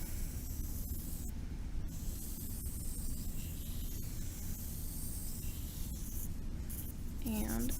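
Vine charcoal sketching a circle on paper, a soft continuous scratchy rubbing close up, steady and quiet with faint hiss.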